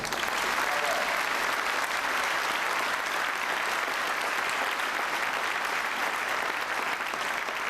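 A school audience at a 1990 high school awards ceremony claps steadily, a thick, even wash of many hands heard somewhat distant and moderately soft throughout.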